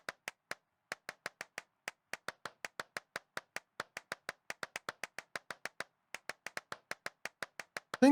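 Single pairs of hands clap inside an abandoned church, sharp isolated claps in a quick, slightly uneven rhythm with a brief pause early on, each ringing faintly in the empty space.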